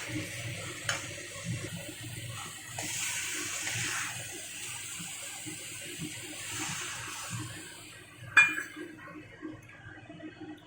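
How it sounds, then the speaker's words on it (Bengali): Water pours into a pan of chicken masala with a steady splashing flow, followed near the end by a sharp metallic clink of a utensil against the pan, close and moderately loud, with no talking. "এখন আমি একটু জল দিয়ে দেবো।"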